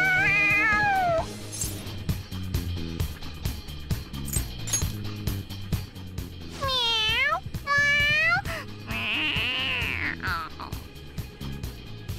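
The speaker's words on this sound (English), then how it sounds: "The cat's acting awfully excited." A cat meows excitedly in Persona 5 Royal, sounding several loud, drawn-out rising and falling calls over game music and background sound effects.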